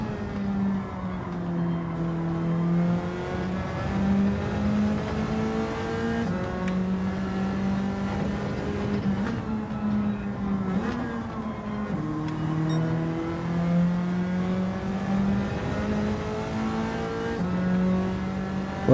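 Race car engine in Gran Turismo 7 holding a loud, steady drone with shifting pitch through gear changes, while the tyres slide and squeal under it, sustained throughout with no talking.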